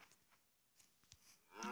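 A Minecraft cow lets out a faint moo amid quiet game sounds, with soft clicks and rustles around it and no talking.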